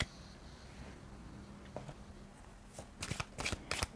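Tarot cards being shuffled by hand, faint rustling at first, then a run of crisp riffling bursts growing louder toward the end, with no talking.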